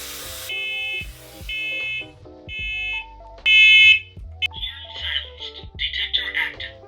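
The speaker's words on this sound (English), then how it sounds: "These fire alarms are so sensitive for whatever reason." Smoke alarm set off by heat from a hair-styling tool during a bouncy blowout, sounding repeated loud high electronic beeps in bursts, with bumps, brief handling noise and faint voices between them.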